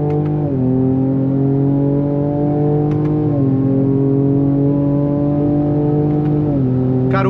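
A Ford Ranger Raptor pickup in 4x2 accelerates hard from a standstill, its engine note climbing steadily through quick gear changes, loud and close with no talk.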